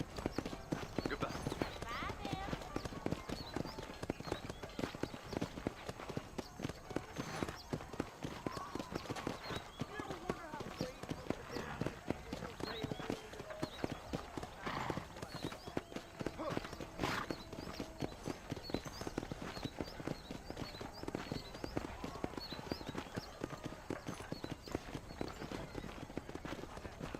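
A horse's hooves clip-clop steadily in Red Dead Redemption, an unbroken run of quick, evenly spaced hoofbeats mixed low beneath game sound, with a voice talking over it.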